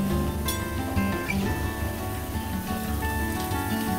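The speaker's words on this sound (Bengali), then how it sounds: "গ্যাসের ফ্লেমটা লোতে রেখে আমি ভেজে নিচ্ছি" Onion with chilli powder, turmeric and salt fries gently in a pan over a low gas flame, a continuous soft rain-like crackle and sizzle at even volume, with faint tonal sounds in the background.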